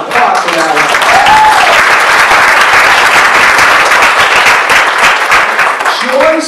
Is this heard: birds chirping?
no